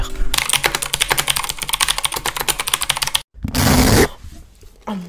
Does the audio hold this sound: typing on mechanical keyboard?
yes